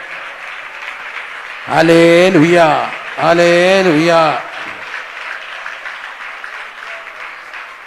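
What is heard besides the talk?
congregation clapping hands in praise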